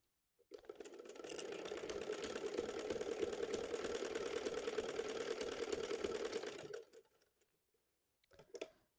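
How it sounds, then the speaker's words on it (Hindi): A sewing machine stitches a pocket onto ladies' pants, running steadily at a fast even hum for about six seconds, then stopping, followed by a brief faint mechanical rattle. "अब हम इसको ऐसे कर लेंगे, इसको एक दफ़ा फिर से सिलाई लगा लें"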